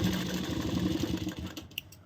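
Sewing machine stitching a kurti at a fashion-design class, a close, steady rapid mechanical whir running for about a second and a half before it stops, followed by a small click.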